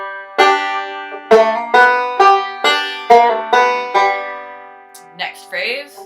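Banjo playing a walk-up on the 4th string, a string of about eight bright plucked notes, each ringing and decaying before the next, with a short voice at the very end.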